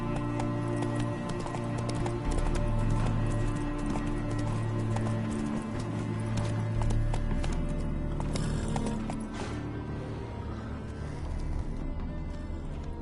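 The Witcher 3's horse Roach gallops in a fast, steady clip-clop of hooves, with looping tones and game ambience running alongside, no one speaking.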